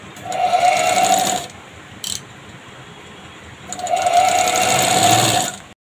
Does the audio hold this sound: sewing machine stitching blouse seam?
yes